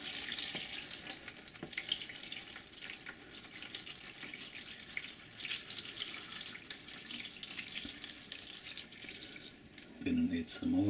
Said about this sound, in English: If I pour water in here,